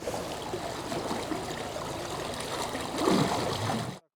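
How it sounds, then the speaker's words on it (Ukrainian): Water from the Dnipro flows into the Inhulets and washes away the riverbanks beside a crumbling village bridge in Kirovohrad region. It makes a steady, close rushing and trickling wash that swells slightly near the end, with no speech over it. "берега ж розмиває вода, з Дніпра ж поступає сюди вода"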